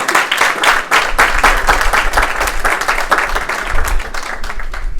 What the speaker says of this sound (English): Please give a round of applause to my husband